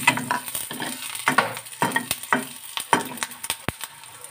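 Fenugreek and coriander seeds fry in hot oil for a chutney, a steady crackling sizzle broken by repeated sharp scrapes and knocks of a spoon stirring in the pan, close and fairly loud with no talk.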